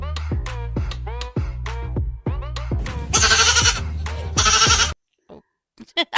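A goat bleats repeatedly in close, wavering cries, several calls in a row, then a couple of short noisy bursts before a brief quiet with faint sounds at the end.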